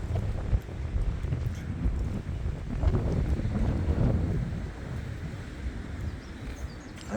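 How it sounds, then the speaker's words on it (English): Outdoors on a windy morning, gusts of wind buffet the microphone, making a loud, rumbling low roar that swells and eases without a break. "I hope you can hear the wind, because the wind is blowing straight at me"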